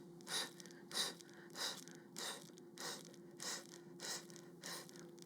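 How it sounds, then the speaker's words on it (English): Rhythmic staccato breathing during Pilates reformer ring pulses: a steady series of about nine short, sharp exhaled bursts, evenly spaced and close, over a low constant hum. "Let's use a staccato breath to pulse the ring"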